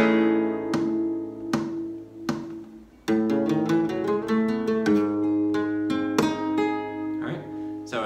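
Flamenco guitar plays the opening of a soleá falseta as a 7-8-9 phrase: a few spaced, ringing plucked notes first, then a denser run of crisp picked notes and strummed accents, close and clear.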